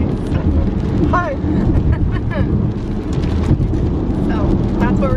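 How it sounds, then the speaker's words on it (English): Rain drumming on a car roof heard from inside the vehicle, a dense steady low rumbling patter, loud and close, with voices talking over it. "I don't know if you can hear because it's raining."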